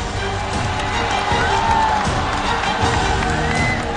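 A studio audience at a Chinese talent show cheers and applauds a performer called Kung Fu Panda, a loud, continuous roar of clapping, whoops and excited shouts that stays full for the whole stretch.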